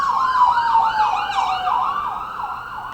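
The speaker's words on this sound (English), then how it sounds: "so we may be interrupted a couple times by ambulances" An ambulance siren wails near hospitals, rising and falling in a quick repeating yelp pattern, loud and close, with faint road noise underneath and no talk.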